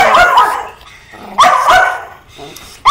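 A dog barks in a few loud close bursts amid household commotion, with a person talking over and between the barks.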